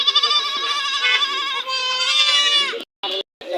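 Several goats bleat close by at a goat market in Tongi, overlapping wavering cries filling the first few seconds before a short pause and a couple of brief final calls.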